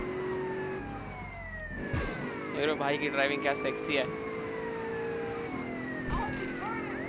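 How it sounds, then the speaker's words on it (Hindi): Police car siren in a GTA game, a wailing siren sweeping up and down steadily over engine hum and traffic, while someone talks over it. "I also play the siren man."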